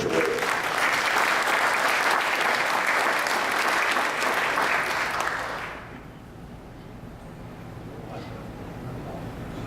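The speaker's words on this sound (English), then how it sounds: "So again, applause for Betty Jo Lane for the obituary." Audience in a library gathering applauds at an auction event, a steady dense wash of clapping for about six seconds before it cuts off abruptly into a quieter, hushed room tone.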